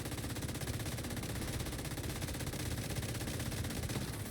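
Rapid automatic gunfire from The Division 2, fired at a grenadier enemy during a solo Lincoln Memorial mission, runs as a dense, steady burst of shots for the full four seconds with no pauses.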